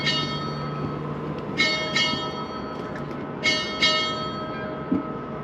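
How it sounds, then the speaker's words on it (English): A ship's bell is struck six times at a US Navy retirement ceremony, ringing in spaced pairs of strikes, each ring lingering over a steady low hum; clear and fairly close. "Boatswain, strike 6 bells."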